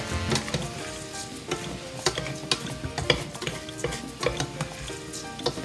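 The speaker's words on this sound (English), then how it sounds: "you have to stir it constantly for it doesn't stick" Rice and beans stirred in a pot on the stove, with a steady scraping of the spoon against the bottom and sharper knocks over a soft sizzle; no talking.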